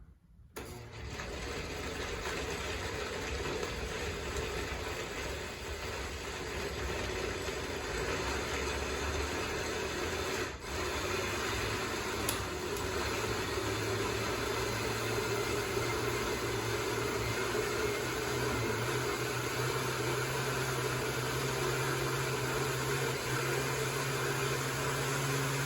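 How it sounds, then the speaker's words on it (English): A kitchen blender whirs steadily with milk inside, its motor holding a loud, even drone for the whole stretch after a brief start, with no talking over it. "Never while the blender is running"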